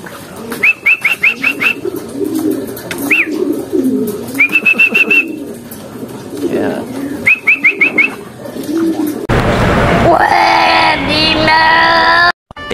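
Pigeons at a breeder's loft coo repeatedly in soft, rhythmic phrases, close and clear, before a loud rustle of flapping wings and movement takes over near the end.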